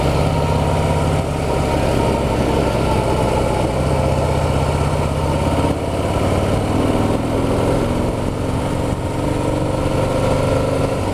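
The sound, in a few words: Harley-Davidson Heritage motorcycle engine downshifting from fourth to third gear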